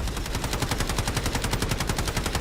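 Sustained automatic weapon fire in the shooter game Delta Force, an even, fast stream of shots held for the whole stretch at moderate loudness with no pauses and no voices.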